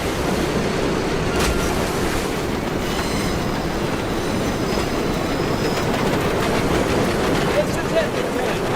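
Train running in the Medal of Honor Above and Beyond video game, a steady loud rumble and clatter of wheels on rails throughout, with faint squeals and no talk.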